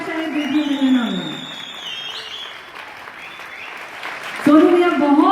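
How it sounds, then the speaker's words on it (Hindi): An award-ceremony crowd honoring a singer claps, with a loud whistle sliding through the middle, then a voice cuts in near the end over the continuing applause. "अरे दिल से सीटियां और तालियां बजा लो"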